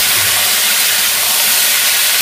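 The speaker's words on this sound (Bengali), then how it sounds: "এর মধ্যে এঁচোড়গুলো ঢেলে দিচ্ছে।" Pieces of young jackfruit go into hot oil with already fried potatoes, producing a loud, dense and continuous close sizzling hiss with no talk.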